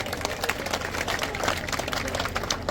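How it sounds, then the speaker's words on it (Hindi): Dense, steady clapping from a large rally crowd of thousands, broad and continuous throughout with no single voice standing out. "जोरदार तालियां बजाएं"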